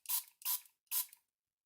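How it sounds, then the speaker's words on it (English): Three quick, crisp hisses from a hand spray bottle misting water onto thin teabag paper, each burst short and evenly spaced, close up in a quiet room with no talk. "I'm really just going to spray it with maybe 5-6 sprays."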